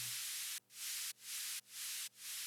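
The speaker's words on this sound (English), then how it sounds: "Bit white noise going on there." Bright white noise effect in a house music track, four long hissing swells each cut off sharply then fading back in, with a low steady tone underneath, no voices.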